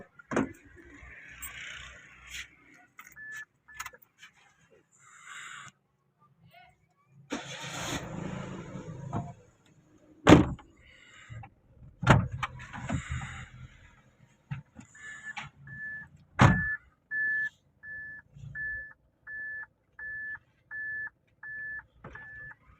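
A car after disc brake repair is started and readied for a test drive: scattered clunks and door thuds, a brief engine crank, then a steady train of regular electronic beeps, heard close with no talking.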